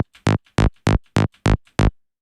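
Six punchy synth bass notes repeat in an even rhythm, each short and loud with a buzzy tone and a soft click between them.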